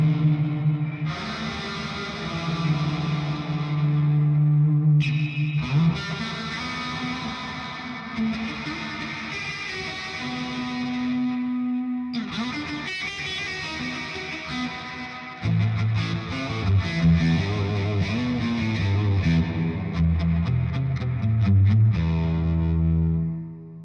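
Electric guitar run through a Walrus Audio Melee pedal with reverb feeding into distortion, giving loud, sustained fuzzy chords and swelling washed-out notes that shift character across several played phrases, with no talking.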